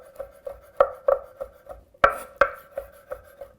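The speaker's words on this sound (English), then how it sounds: "After, I can chop easy with a knife" A knife chops roasted chestnuts on a board, a series of crisp, irregular taps close by, with a few heavier strikes standing out, and no talking.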